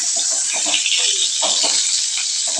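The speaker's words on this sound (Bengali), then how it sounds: "পটলটা ভাজছি," Whole pointed gourds (potol) frying in hot oil give a steady, fairly loud broadband sizzle with a few soft stirring knocks, no voices.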